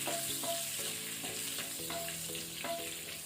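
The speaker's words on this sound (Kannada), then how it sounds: "ಇದನ್ನು ಸ್ವಲ್ಪ ಲೋ ಫ್ಲೇಮಲ್ಲಿ ಫ್ರೈ ಮಾಡಿಕೊಳ್ಳುವ." Cumin seeds and dried red chilli fry gently in oil over a low flame for rajma masala, a soft continuous sizzle beneath background music, quiet and close.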